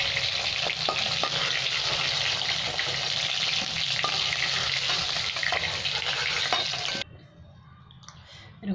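Rohu fish pieces sizzle and crackle steadily in hot mustard oil, a dense close frying hiss with occasional stirring, which drops off abruptly near the end to a quieter background.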